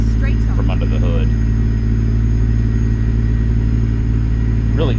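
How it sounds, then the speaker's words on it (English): In American Truck Simulator, a Freightliner Argosy's Detroit 14-litre engine drones loudly and steadily, a deep rumble heard from inside the cab with a faint whistling turbo tone above it, while a voice talks briefly over the top. "you can definitely hear the turbine noise just from under the hood"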